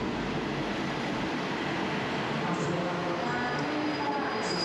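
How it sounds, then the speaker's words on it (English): A train rolls slowly into a station on the main line from Bangkok, Thailand, a fairly quiet, steady rumble and hum with faint metallic squeals. "There's a train just pulling in now."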